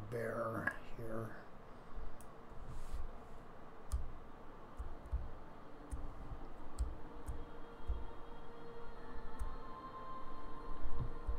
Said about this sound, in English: Okay, this is a brand new keyboard and